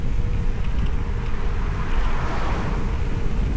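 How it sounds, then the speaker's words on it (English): Steady wind roars across the microphone throughout an eMTB ride on a Cube Stereo Hybrid One77 HPC Race electric mountain bike, a loud continuous rumble with no pauses or voices. "We've got a bit of a wind."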